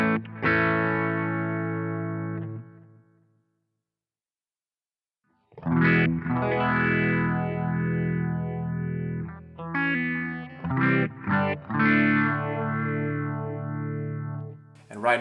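Guitar run through a Boss GT-1 multi-effects unit with the phaser switched off, heard as a sustained distorted chord that stops, then a few seconds of silence, then a longer phrase of overdriven notes and chords, loud and close, with no talking.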